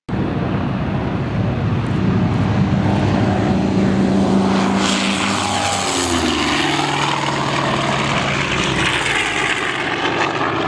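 F8F Bearcat warbird in flight, its piston engine roaring loudly as it passes close by, with a pitch shift midway and a fading drone afterward.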